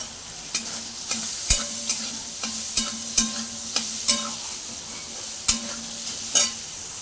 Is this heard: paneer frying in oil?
yes